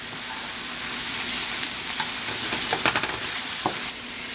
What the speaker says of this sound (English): you're going to add your garlic and the chopped pineapple. And you're just going to saute that.